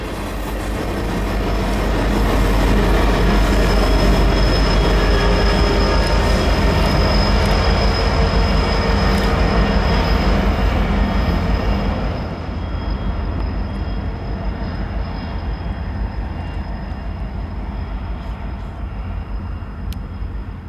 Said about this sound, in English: our rock train has received orders from dispatch to shove several miles back to a small MOW siding